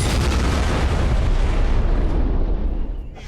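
A cannon fires on command, a sustained loud roaring blast that fills the whole span and rumbles on before tapering off at the very end.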